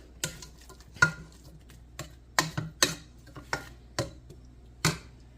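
Chopped vegetables for goulash being sauteed in a pan, with a faint sizzle under a sparse series of sharp spoon scrapes and taps against the pan, close up with no talking.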